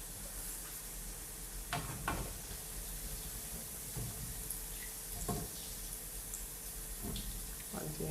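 Pieces of Ramadan halwa dough fry in hot oil, giving a steady low sizzle broken by a few sharp clinks and stirring knocks.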